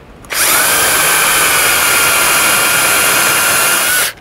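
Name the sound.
drill drilling out a 5mm rivet with 6mm bit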